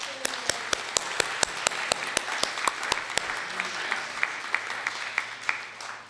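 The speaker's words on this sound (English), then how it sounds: "we ask you to please join us in a round of applause for them" An audience applauds steadily after a theatre performance, with sharp individual claps standing out at an even pace throughout.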